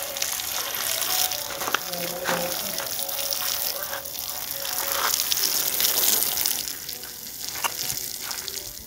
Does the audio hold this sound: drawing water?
yes